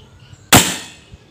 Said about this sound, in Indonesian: Nah, itu suara tanpa muzzle brake ya.